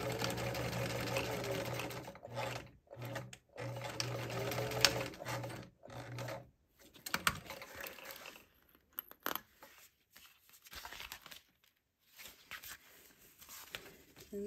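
A sewing machine stitches a zipper onto a vintage travel bag, running in close, fast bursts of mechanical whirring broken by short pauses, with no talk.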